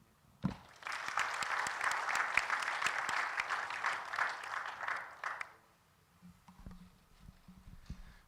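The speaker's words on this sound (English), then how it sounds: "I think they also deserve a round of applause" An audience at the closing session of a three-day conference breaks into a burst of applause. Dense clapping lasts about five seconds, then fades to a few scattered claps and shuffling.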